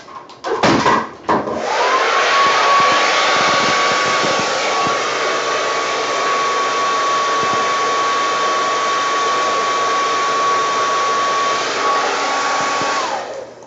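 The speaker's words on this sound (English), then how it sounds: "I'd like to get the big blower out just for that center bit" A big electric blower roars steadily with a constant whine, pushing air across an acrylic Dutch paint pour; a few knocks and handling bumps come first, then the blower runs loud and even until it cuts off near the end.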